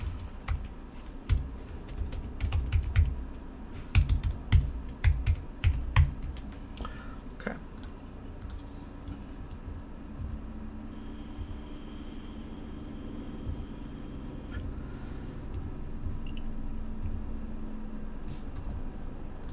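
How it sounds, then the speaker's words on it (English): Computer keyboard typing in an indoor setting, a cluster of quick clicking keystrokes early on that soon gives way to quiet room noise with only occasional faint taps. "Let me type."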